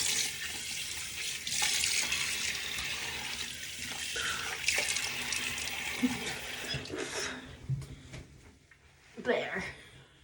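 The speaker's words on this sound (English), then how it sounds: "I'm gonna wash my face." A bathroom tap runs steadily into a sink while someone washes their face, with splashing and hand-rinsing sounds that ease off toward the end.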